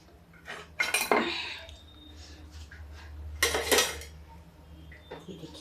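A lid goes onto a pan of frying pumpkin pakoras in a home kitchen, giving two bursts of close metallic clattering and rattling, each about a second long, over a low steady hum.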